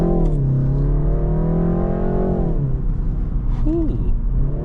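Gen 3 BMW M340i engine pulls in a steady rising drone of harmonics, then eases off and settles at a lower pitch, loud and close from inside the car, with a brief voice near the end.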